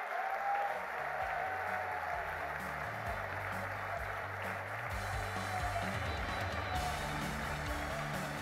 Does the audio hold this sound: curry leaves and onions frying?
no